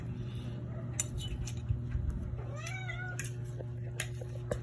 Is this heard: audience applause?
no